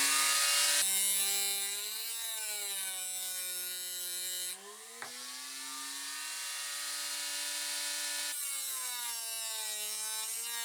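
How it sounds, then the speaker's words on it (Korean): Whining Dremel rotary tool with a sandpaper disc grinding low- and high-carbon steel, a high steady buzz with shifting pitch as pressure changes, close and continuous with a brief break midway. "그라인더는 시끄러워서 드레멜에 사포 디스크를 만들어 장착해 놓았습니다"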